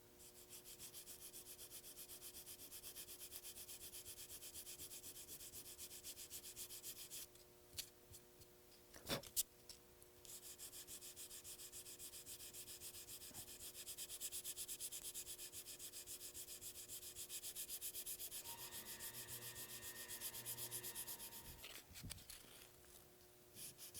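Continuous dry rubbing of sandpaper across a hard lacquer finish with stick shellac repairs, steady strokes at close range with a couple of brief knocks and pauses near the middle and end.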